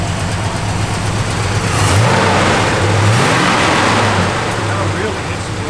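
1970 Plymouth Road Runner V8 rumbling close by, blipped into a couple of short throaty revs that rise and fall over a steady idle.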